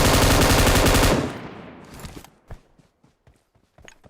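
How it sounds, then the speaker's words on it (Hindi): An M249 machine gun in a video game fires a loud, dense burst that cuts off after about a second, followed by scattered quieter thuds and footstep-like taps. "मैंने सोचा 150 गोली चला के देख लेते हैं M249 में"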